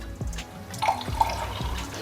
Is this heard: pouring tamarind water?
yes